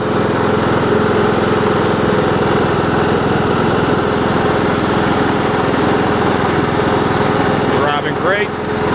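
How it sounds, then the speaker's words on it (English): A Craftsman LT2000 lawn tractor engine runs steadily and close while the mower drives, a constant loud drone with a brief shift in tone near the end. "The tractor is now moving."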